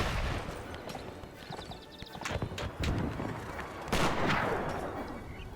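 Musket gunshots from a Between Empires battle, several sharp reports fired at a middling distance, mixed with horse hooves and whinnies amid a busy combat din.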